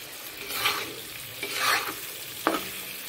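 Pork sizzling and frying in its own rendered fat, with a spatula stirring and scraping the pan in a few bursts and a sharp clack near the end, close by with no talking.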